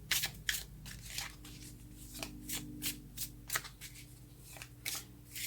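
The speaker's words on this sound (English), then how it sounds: "I'm trying to shuffle without my immobilizer on" Tarot cards shuffled by hand in quick bursts of crisp riffling and soft slaps, a steady rhythm of close, moderately loud card noise over a low background hum.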